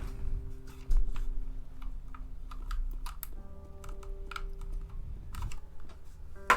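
Typing on a computer keyboard: irregular bursts of crisp key clicks, close and fairly quiet, over a low steady electronic hum with no talking.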